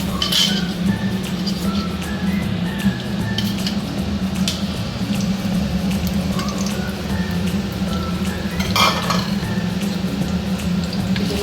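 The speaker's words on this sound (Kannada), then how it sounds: "ಸ್ವಲ್ಪ ತುಪ್ಪದಲ್ಲಿ ಮುಟ್ಟಿಸ್ಕೊತೀನಿ ಅಷ್ಟೇ, ಅತಿಯಾಗಿ ಫ್ರೈ ಮಾಡ್ಕೊಳ್ಳಲ್ಲ." Blended dates are stirred in a little ghee in a pan for a dry-fruit karadantu, giving a steady close sizzle with a low hum beneath and occasional spoon clinks against the pan.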